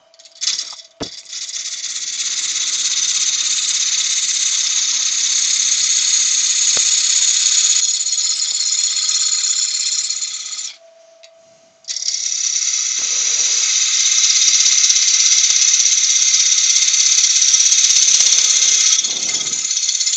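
A wooden workpiece being rounded off, likely on a lathe, gives a loud continuous high rasping and grinding that runs steadily, breaks off briefly near the middle, then resumes just as strongly to the end.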